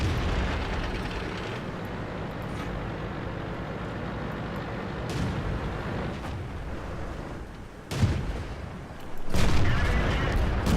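World of Tanks battle, with a rumbling engine drone and muffled booming shell impacts, the clearest of them a sharp crack near the end as a shot bounces off a Hellcat's armor.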